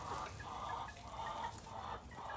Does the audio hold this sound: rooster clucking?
yes